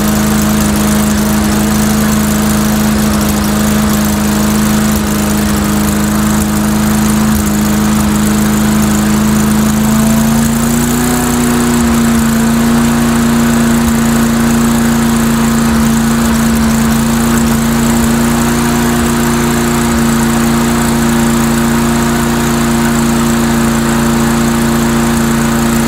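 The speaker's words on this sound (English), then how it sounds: "let me increase the RPM a little bit." Engine droning loudly and steadily, its pitch climbing slightly partway through as the RPM is raised, then holding at the higher speed with no talk.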